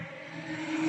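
Track day car at Cadwell Park giving a steady, loud engine drone that swells slightly as it runs at speed, with no voices.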